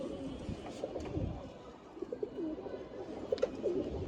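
Male breeder pigeons kept at a house loft coo softly in low, repeated throaty murmurs, fairly faint against a quiet room.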